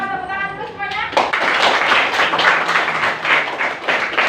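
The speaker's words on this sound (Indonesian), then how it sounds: "Coba tepuk tangan dulu semuanya." A school class clapping hands together in a classroom, a brief voice and tones first, then a burst of many children's claps in a lively, uneven ripple that keeps going.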